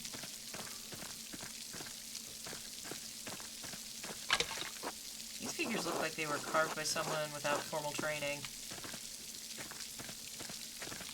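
Steady patter of rain in the video game Pentiment runs as a soft background hiss throughout, while someone talks over it.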